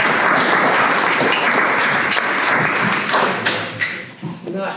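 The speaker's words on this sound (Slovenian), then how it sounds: "Tako da zdaj hočem en velik aplavz." Audience applause at a product launch event for Neubria in Slovenia, a dense, steady wash of many hands clapping that stays loud throughout, with a few louder thumps near the end as it starts to thin.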